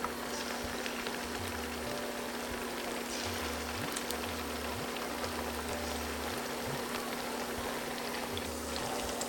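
Chilli chicken pieces deep-fry in hot oil, giving a steady, even bubbling hiss like light rain that runs unbroken throughout with no voices over it.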